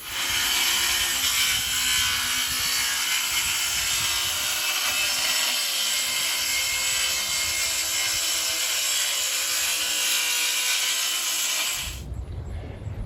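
Power saw cutting a triangle out of plywood for a chicken coop, a loud steady whine running continuously for about twelve seconds before cutting off, with no talk.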